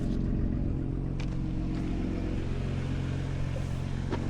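Stuck truck spinning its wheels in mud with no traction, a steady loud engine drone and churning roar running throughout, close by and unbroken, with no voices.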